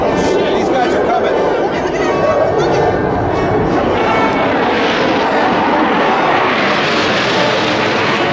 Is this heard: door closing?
no